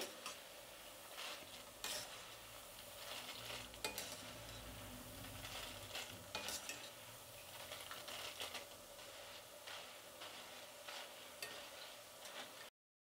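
Kara boondi, small crisp gram-flour drops, frying in hot oil while a ladle stirs it, giving a soft continuous sizzle with irregular clinks and scrapes against the pan, close and fairly quiet, no voices.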